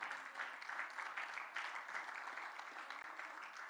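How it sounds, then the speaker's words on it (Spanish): Congregation in a church sermon giving loud, sustained applause, a dense even roar of many hands clapping throughout with no break. "Denle un fuerte aplauso al Señor Jesucristo"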